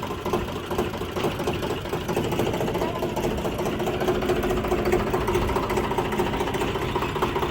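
A tractor engine idles and runs with a steady rough mechanical drone that stays even and close throughout, with no voices over it.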